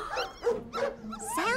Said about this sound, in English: Sounds like... dogs?